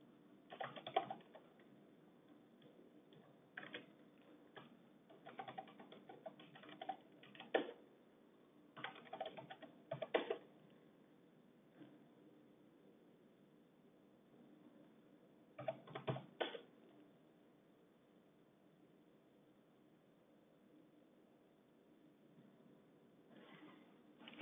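Bursts of typing on a computer keyboard come in short irregular runs separated by pauses, fairly close and moderately loud over a low steady background hum, with no voices.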